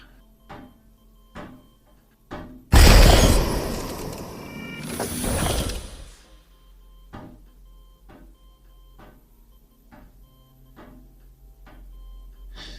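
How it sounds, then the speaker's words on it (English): A door opened in an audio drama scene, heard as a loud, rough scraping sweep lasting a few seconds, with quieter ticking before and after. "I'm gonna open the other door."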